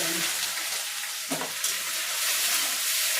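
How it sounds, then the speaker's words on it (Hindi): Onions fry in hot oil with a bright, steady hiss that fills the pan, broken by a couple of quick stirring clatters midway, close and fairly loud with no talking. "तेल गरम है, प्याज भून लूंगी।"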